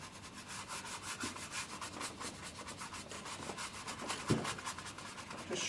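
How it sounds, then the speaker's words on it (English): A bristle brush scrubs oil paint onto canvas with a steady, close, soft rubbing sound in quick back-and-forth strokes, continuous and low in level with no voices. "Just scrub it in, because bristle brushes have got split hairs on the end"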